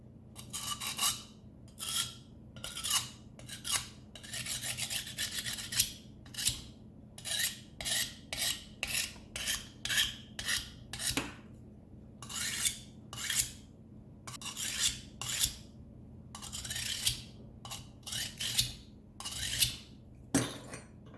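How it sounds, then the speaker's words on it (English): A Parkside diamond tool sharpener grinding a blade, heard as a series of short, rhythmic raspy strokes with brief gaps between them, close and fairly loud, with no talking. "This has a bigger area for grinding"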